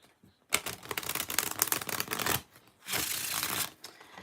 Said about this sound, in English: One more shuffle and we're going to get started.